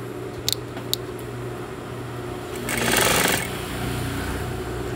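A sewing machine stitches a zipper with a steady mechanical whir close by, a few sharp clicks early on and a brief louder burst of fast stitching in the middle.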